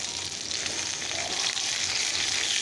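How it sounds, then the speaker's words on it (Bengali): Fish frying in a pan at home, a dense, steady sizzle and crackle of hot oil filling the whole moment at close range, with no voices over it. "মাছ ভাজা হচ্ছে, মাছ"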